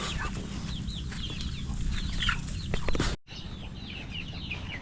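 Chickens clucking close by, a steady stream of short overlapping clucks over low outdoor rumble, briefly cut off once before resuming.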